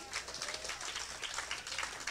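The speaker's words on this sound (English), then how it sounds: "Come on, clap your hands with a praise" Church congregation clapping hands in praise during a Sunday men's service, a steady wash of many hands close by with no talk over it.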